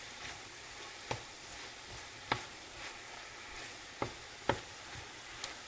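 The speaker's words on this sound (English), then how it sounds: "Get that all stirred in." Vegetables including carrots stirred in a pan for pasta primavera, with a steady low sizzle and scattered sharp utensil scrapes and clacks against the pan, about six distinct knocks at close range, no talking.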